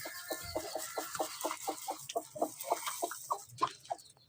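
Hens cluck in a quick repeated series of short clucks, close by and fairly quiet, with no talking.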